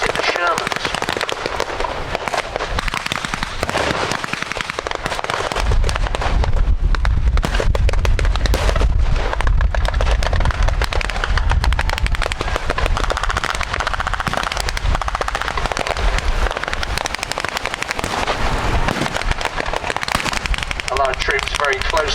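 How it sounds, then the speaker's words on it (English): Heavy bursts of .50 cal machine-gun fire and booming Sherman tank 75mm guns at a WWII battle reenactment at the Victory Show, loud, dense and continuous with sharp cracks, under a commentator's amplified voice. "Vehicles now providing heavy fire support with their 50 cal machine guns, and of course the 75mm guns in the Shermans."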